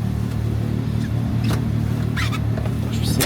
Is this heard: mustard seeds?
no